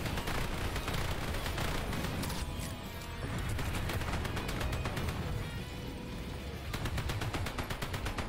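A turret power-up fires without pause in the roguelike Repetendium, a dense, loud stream of rapid shots that lasts the whole stretch and pulses with a steady rhythm, set against a busy game score.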